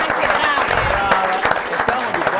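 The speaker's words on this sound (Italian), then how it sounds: "Facciamogli un applauso." Applause from an audience at an archery gathering of the Arcieri Padovani club, for a pair of twin girls: a steady wash of dense clapping throughout, mixed with voices.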